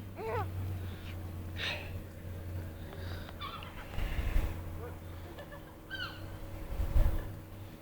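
Seagulls give several short, high calls at scattered moments against a low steady engine hum, with people talking nearby.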